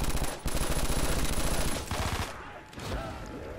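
QBB LSW light machine gun fire in a SpongeBob Zombies mod game, sounding as loud, rapid sustained bursts with a few short breaks between them and no talk over it.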